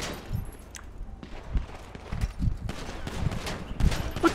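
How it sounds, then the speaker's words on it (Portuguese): Gunfire in GTA 5 during a roleplay session: several sharp shots crack out at irregular intervals, some in quick bursts, at moderate distance over low rumbling game ambience. "Tá dando um tiro aqui."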